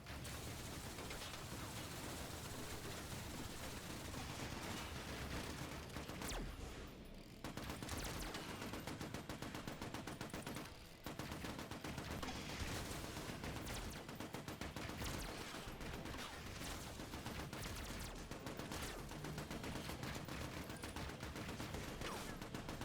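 Constant rapid gunfire from a video game zombie defence mode rattles on without pause for over twenty seconds, a dense, harsh stream of shots with only two brief dips.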